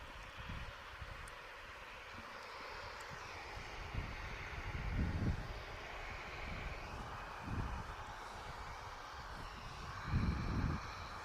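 An airliner on its takeoff roll at Manchester Airport at dawn gives a broad, distant roaring rumble that holds steady, with buffeting wind gusts on the microphone.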